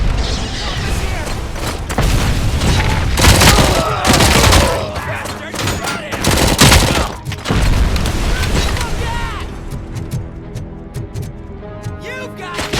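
Dense gunfire and booming blasts in the Robocop: Rogue City video game during a courthouse attack, loud bursts overlapping with shouting voices, then fading to a quieter tail with ringing tones.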